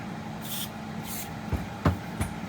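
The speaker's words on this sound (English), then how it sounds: "hit it with this gun oil spray and it makes it slick again" Two short hissing bursts of gun oil aerosol spray on an AR-10 pistol-caliber rifle during cleaning, followed by a few dull knocks and clunks, close by.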